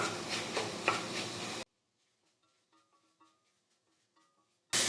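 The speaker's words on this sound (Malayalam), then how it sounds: "മീഡിയം ഫ്ലെയിമിലൊക്കെ വെച്ചിട്ട് 2-3 മിനിറ്റ് നേരം ഒന്ന് വഴറ്റി കൊടുക്കാം." Chicken filling sautéing in a pan over a medium flame: a short burst of close sizzling and stirring, then near silence with faint clicks, before the sizzle briefly returns at the end.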